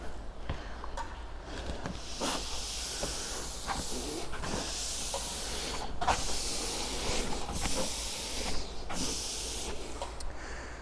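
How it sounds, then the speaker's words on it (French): A treadmill running belt turns after being greased, giving a continuous broad hiss and whir with a low steady hum and periodic soft swishes as the belt loops round, alone and close. "vous faites tourner la bande de course pour que la graisse s'étale sur la planche"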